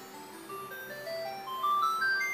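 Chiptune-style game music from the Squaresoft title Final Fantasy, run on a PSX emulator on a Sony Ericsson Xperia Play, plays softly as a thin steady tune of rising synth notes with no talking.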